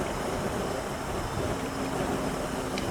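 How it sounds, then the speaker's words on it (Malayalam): Strong wind blows outdoors in a continuous broadband roar and rush, steady and fairly loud throughout, with no voices. "നല്ല കാറ്റ് വീശുന്നുണ്ട്."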